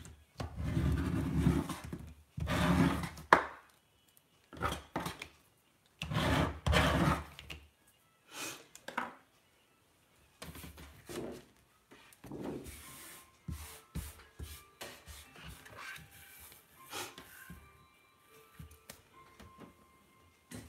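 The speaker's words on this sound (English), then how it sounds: "I'm just going to scrape all these bits off" Paper scraps are scraped off a ScanNCut cutting mat in a series of close scratchy rasping strokes, loud bursts broken by short pauses, with no talking.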